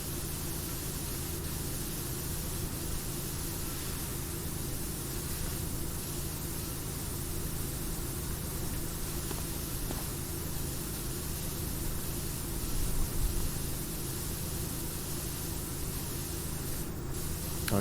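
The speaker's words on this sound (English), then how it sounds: "I'm just going to shove this high-pressure hose into your earlug hole." A high-pressure hose sprays steadily in the video game PowerWash Simulator, a continuous broad hiss like white noise that runs unbroken at an even level the whole time, with no talk over it.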